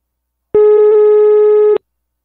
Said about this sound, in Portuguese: Eu vou ligar agora pra Maluce